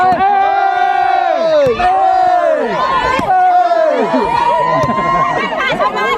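A large crowd of children cheers at a camp sports day, a loud, unbroken wall of shouting voices rising and falling in chant-like waves, with sharp whoops cutting through.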